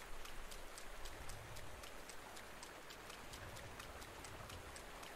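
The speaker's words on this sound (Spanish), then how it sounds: "está lloviendo" Steady rain falls in Zelda Breath of the Wild, a soft, even patter with faint ticking drops repeating at a regular rhythm, quiet and continuous throughout.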